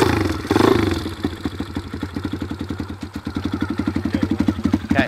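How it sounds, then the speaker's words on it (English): A dirt bike engine idles close by, then its pulse steadies and quickens slightly as the clutch is let out slowly and the bike starts to creep forward, with a regular chugging throb throughout and no talk. "we just let the clutch out nice and slowly, just a little bit, and you'll feel the bike just start to move a little bit"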